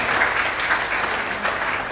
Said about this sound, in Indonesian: Tepuk tangan dulu buat pajang barang